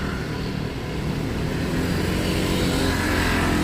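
A Hino RN 285 bus with a JB3 body pulling away from a depot in Wonogiri, its engine a loud continuous roar that swells slightly as it departs, close by and without voices.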